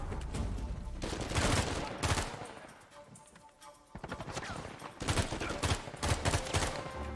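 Sustained gunfire in the action game Uncharted 4: A Thief's End, dense rapid bursts from several weapons, loud and close, easing briefly midway before heavy shooting resumes.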